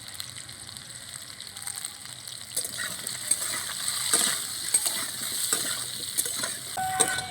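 Taro pieces with salt and turmeric fry in a pan. A quiet sizzle grows louder partway through and carries scattered crackles and spoon clinks, with no speech.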